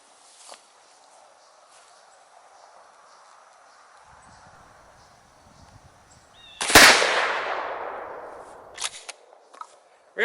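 A single loud blast from a Stoeger M3000 shotgun firing 00 buckshot at a target seven yards away, sudden and sharp with a trailing decay, after quiet moments with faint movement.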